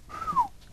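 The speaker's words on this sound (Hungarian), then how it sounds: "Kénytelenne vagyok egyet füttyenteni, amikor a címet felolvasom." A person gives a single short rising-then-falling whistle, faint and alone, lasting under half a second.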